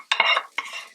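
Dal gosht is stirred in a pot, giving two short bursts of spoon scraping and wet mixing close up, the first longer than the second, with no talk.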